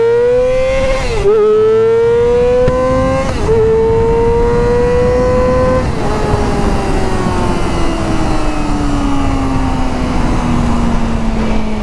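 A Yamaha R6 sport motorcycle engine screams at full throttle, loud and close, its high-pitched wail climbing through several gear shifts with brief dips before settling into a long sustained pull.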